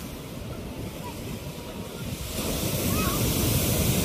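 Waves breaking on the shore during a typhoon, a steady rough roar with wind noise that swells louder partway through.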